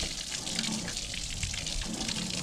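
Water from a hose sprays steadily over the body of a 1967 MGB GT car, a continuous close hiss without breaks and no talking.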